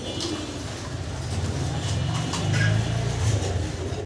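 Low, soft cooing of pigeons repeating in gentle throaty phrases, close by, with light background noise.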